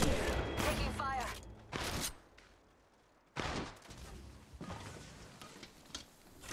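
Gunfire in the mobile battle-royale game Apex Legends Mobile: loud bursts of shots come in clusters with quiet gaps, mixed with game voice lines.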